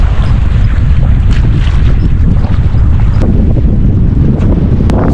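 Strong wind buffets the microphone on a small fishing boat at sea, a loud continuous low roar with gusting rumble and occasional sharp knocks, no voices.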